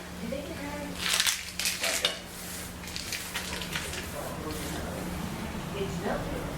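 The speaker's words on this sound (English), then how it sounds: "now I'm going to sprinkle the cookies" Crushed cookie crumbs sprinkled over a homemade cheesecake in a kitchen, giving a few quick crunchy, rattling patters in a burst, with a low steady hum underneath and people talking nearby.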